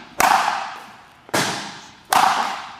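Three pickleball serves, each a sharp loud paddle-on-ball pop with a short ringing tail, spaced about a second apart and heard close without talk.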